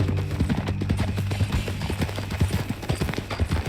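Horse hooves clip-clop in a steady, fairly close rhythm as a horse is ridden in Red Dead Redemption 2, the hoofbeats repeating evenly over a low background of ambient game sound.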